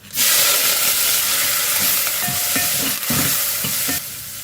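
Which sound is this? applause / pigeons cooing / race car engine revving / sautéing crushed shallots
sautéing crushed shallots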